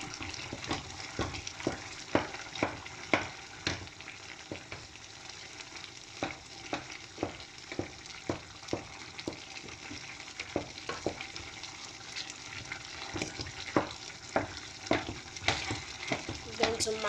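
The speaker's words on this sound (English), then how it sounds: "And I'm going to stir together." A spoon stirs thick yam pottage in a pot, giving repeated sharp scraping knocks at an uneven rhythm over a soft bubbling bed, close and fairly quiet, with no voices.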